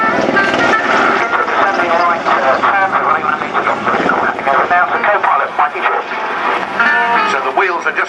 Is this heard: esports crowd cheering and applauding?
no